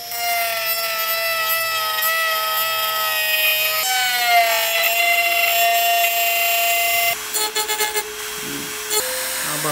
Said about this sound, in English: Back to power tools.